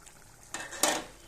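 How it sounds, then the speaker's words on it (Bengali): A metal lid comes off a pot of boiling small-fish curry, giving two quick clanking scrapes of metal on metal, close and moderately loud, against a faint kitchen hush. "তো বন্ধুরা আমি ঢাকনা খুলে দেখে নেব,"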